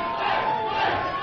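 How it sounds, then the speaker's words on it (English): A live audience chants for Flavor Flav as he comes out on stage, a dense, steady roar of many voices heard from a distance, continuous and fairly loud throughout. "Yeah, the crowd chanting for Flav."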